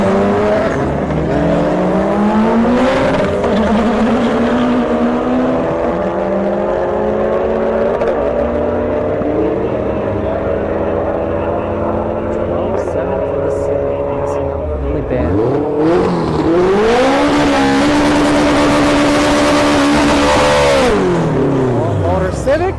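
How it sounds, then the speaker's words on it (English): A big-turbo Honda Civic and a Mercedes C63S drag race at Bradenton Motorsports Park: loud, sustained engine roar with rising revs and gear-change dips, then a second surge of acceleration. "That's a big turbo Civic on the right there."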